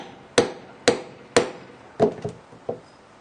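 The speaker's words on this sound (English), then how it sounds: "give it about 4 or 5 whacks with a hammer" Hammer whacks on a grommet setting tool, fixing a grommet through clear vinyl porch enclosure material: three evenly spaced sharp strikes, then a quicker cluster of three lighter blows, close and fairly loud with no talk.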